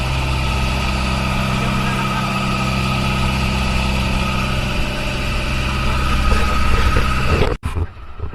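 Loud, steady droning hum of a boat engine runs throughout, close and continuous, then cuts out abruptly near the end.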